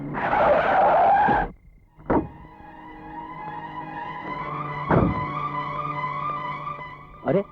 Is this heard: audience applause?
no